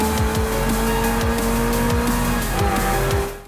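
Supercar in Forza Horizon 4 roaring at high revs with repeated downshift drops and a tire squeal underneath, loud and close throughout, with no talk.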